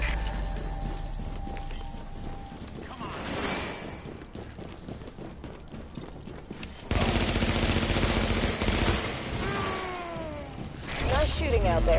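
Video game gunfire crackles in bursts through a noisy battle, with rapid volleys and single shots over a constant background rumble, louder and denser in the second half, with faint voices in the mix.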